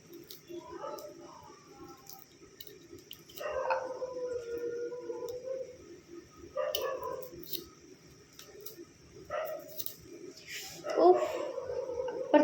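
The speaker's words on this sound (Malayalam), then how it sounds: "അപ്പുറത്ത് ഒരു ഫാമുണ്ട്, അവിടുത്തെ നായയാന്ന് തോന്നുന്നു കണ്ടിന്യൂസ് കുരച്ചിട്ടേ ഇരിക്കുന്നു." A dog at a nearby farm barks and howls again and again in the distance, faint bursts rising every few seconds over a low steady background hum, with birds chirping now and then.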